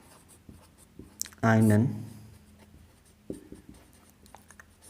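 Marker or chalk scratching on a board during a Class 11 chemistry lesson, brief faint strokes mostly heard under and around a man's short spoken phrase in a quiet room.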